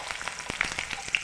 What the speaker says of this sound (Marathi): पळी तेल टाकलं कढईमध्ये. नंतर थोडीशी मोहरी टाकली. थोड्याशा मिरच्या टाकल्या.